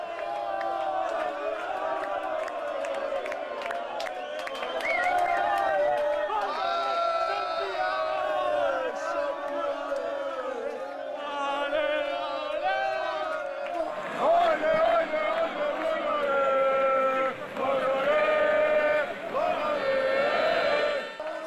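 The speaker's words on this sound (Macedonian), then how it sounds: "Победата на вардарци се славеше од секој можен нагол, секој кафуле и сечи и дом." A large crowd celebrates a Vardar handball victory, packed into cafés and homes, with loud, continuous chanting, cheering and singing that swells into stronger bursts toward the end.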